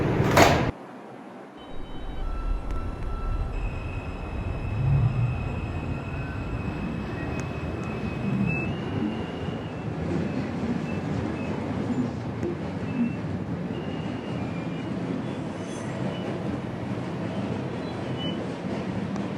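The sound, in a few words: New York subway 4 train riding toward Woodlawn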